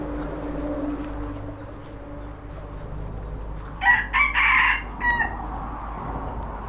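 A domestic chicken, not a jungle fowl, calls from close by in a short cluster of loud, harsh bursts midway through, over a steady low outdoor background.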